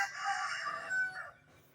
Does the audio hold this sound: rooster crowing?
yes